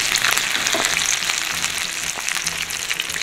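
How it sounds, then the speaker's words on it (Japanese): Chicken karaage marinated in whiskey deep-frying in hot oil over medium heat, a loud dense bubbling crackle that stays steady and close throughout, with no one speaking. "中火で、まあ、こんなぐらいの色にね、5分かな、揚げました"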